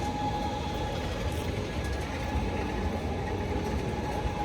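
A rack railway train climbing toward the Montserrat monastery rolls along with a steady, close rumble and a faint whine, forming one continuous ride noise with no talk.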